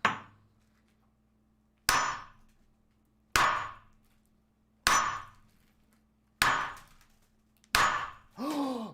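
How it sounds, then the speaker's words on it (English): A big hammer strikes a geode six times at a steady pace, each hit a sharp, close crack with a quick ringing decay. A brief burst of voice follows the final blow. "this is a big one, so I think we should probably use the big hammer"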